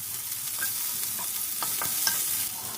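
Chopped large onion dropped into hot oil for coconut rice, giving a steady close sizzle with a few stirring scrapes and clicks, no voices.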